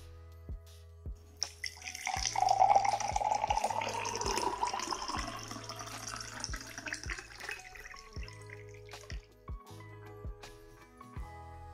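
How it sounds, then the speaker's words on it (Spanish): Cold water pours into a glass during a home convection experiment, a steady splashing fill rising to a fuller trickle and then trailing off into a few scattered drips. "En el otro vaso vamos a verter agua fría."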